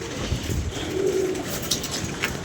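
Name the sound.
pigeons cooing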